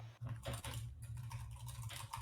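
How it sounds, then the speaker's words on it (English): Quiet, steady tapping on a computer keyboard, a continuous run of soft clicks with no voices over it. "So, Paul is typing."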